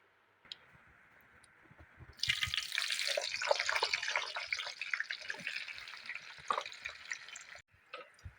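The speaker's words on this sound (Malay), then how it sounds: "Sebab ni kita tumis dulu. Terus ni kita goreng dulu." Eggplant hits hot oil and a loud, crackling sizzle starts, popping and hissing steadily close by before easing off at the end.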